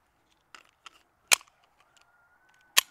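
Several sharp gunshots from a .22 or 9mm fired at a pumpkin, a few quieter cracks followed by two loud, isolated reports spaced well apart, with no talking.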